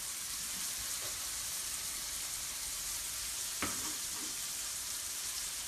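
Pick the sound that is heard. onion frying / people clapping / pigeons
onion frying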